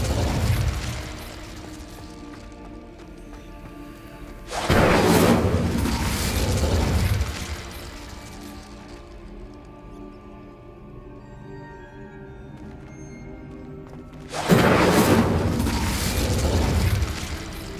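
Incendio fire spell blasts in the wizarding game Hogwarts Legacy: two loud whooshing fiery bursts a few seconds long, separated by a stretch of low rumbling ambience, close and powerful.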